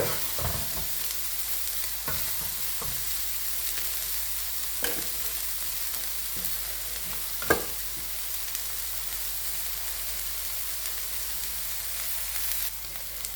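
Onions sautéing in a pan for mutton kothu give off a constant, even sizzle, with a few soft scrapes from stirring near the start and middle.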